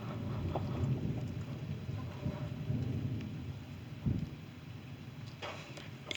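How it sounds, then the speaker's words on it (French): Deep rumbling thunder rolls beneath steady rain, with a heavier crack partway through, loud and close in a continuous night electrical storm at Montady, France. "L'orage n'est peut-être pas violent, mais il est fort."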